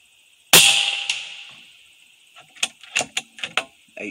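A .25 Air Venturi Avenger air rifle fires a single loud, sharp shot at a target 85 yards away, followed by a ringing decay, then a quick series of lighter mechanical clicks and knocks.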